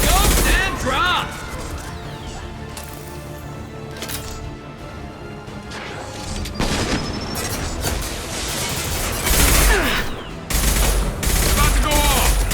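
Gunfire in the Mass Effect 2 Legendary Edition game at the Normandy crash site, several loud bursts of shots and impacts spread across the stretch, with combat voice lines between them.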